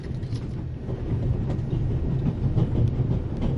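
A moving train in the video game The Raven Remastered rumbles steadily with low clattering and rattling, a continuous moderate-level rolling noise with no speech.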